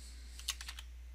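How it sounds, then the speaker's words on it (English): A few quick keystrokes on a computer keyboard, close and fairly crisp, scattered over about a second against a steady low hum, with no voices. "this time we're going to type"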